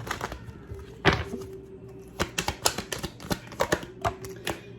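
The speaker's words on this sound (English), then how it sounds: "Usually I don't shuffle a lot, but I'm just compelled to shuffle." Quick flurries of papery riffling and tapping as a deck of tarot cards is shuffled, in short irregular bursts over a low background hum.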